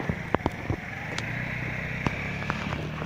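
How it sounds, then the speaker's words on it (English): A car engine idles outside a home during a roadside police stop, giving a low, steady rumble with occasional sharp clicks and knocks over it. "Leaving your engine idling's an offence, sir, under the Traffic Act, Road Traffic Act."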